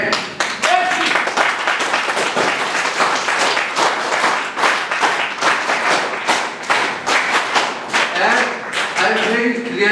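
Students clapping at a school event in Srinagar, a dense, loud patter of many hands that runs steadily for the whole stretch, with voices rising near the end.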